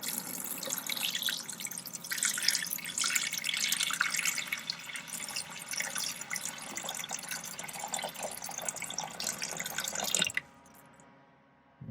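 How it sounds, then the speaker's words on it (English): Water pours steadily into the coolant reservoir of a brand-new electronic home beer machine, a continuous trickling splash that runs for about ten seconds close by and then stops abruptly, leaving near silence. "pouring liquid into a brand new electronic device feels absolutely just wrong, but here we go."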